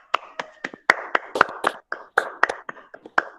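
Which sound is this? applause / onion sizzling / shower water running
applause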